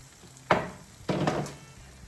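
A chorizo sloppy joe mixture bubbling hard in a pan spits and sizzles in two loud close bursts, each fading back to a low hiss.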